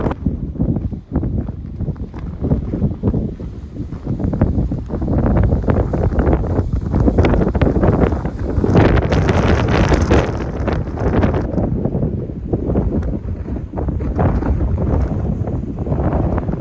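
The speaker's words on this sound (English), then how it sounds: "It is extremely windy." Strong wind roars and buffets the microphone continuously outdoors in Texas, a loud, broad blustering rush with no voices.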